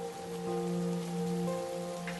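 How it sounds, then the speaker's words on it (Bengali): Rain falls on a cold winter night on a lonely road, a steady soft hiss beneath a sustained low tonal drone, with no voices. "বৃষ্টি মোটামুটি ভালোই পড়া শুরু করেছে।"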